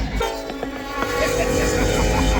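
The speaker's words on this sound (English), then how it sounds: "Take a look at this train." A long freight train rolling along the Humboldt River in the Nevada desert gives a loud, close, continuous rumble with scattered clanks throughout.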